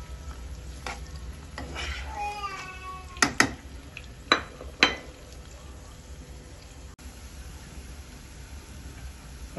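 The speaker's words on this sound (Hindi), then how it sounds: "प्याज जब हाफ फ्राई होंगे तो उसके बाद हम लहसुन डालेंगे।" Onions half-frying in oil for a sarson ka saag tadka, a steady low sizzle with scattered sharp clicks and clatters from stirring, plus a few squeaky chirping tones, with no talking.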